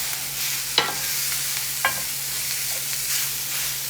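Store-bought sausage fries in a cast iron pan, a steady broadband sizzle with two brief sharp scrapes or clinks about a second apart, heard alone without talk.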